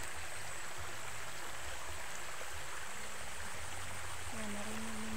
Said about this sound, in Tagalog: narinig niyo yung agos ng tubig yan.